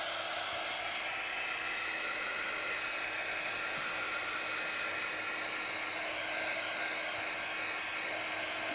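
A hair dryer runs at a steady, loud roar without pause, blowing over freshly spread craft glue during a messy crafting session; no voices are heard over it.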